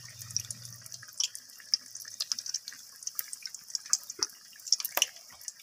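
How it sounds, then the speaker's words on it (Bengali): Potato fritters (aloo bora) frying in hot oil: a steady high sizzle with scattered crackles and pops, close and fairly quiet, with no voices. "তারপর আমি এখানে আরও একটা বড়া দিয়ে দিলাম তেলের মধ্যে।"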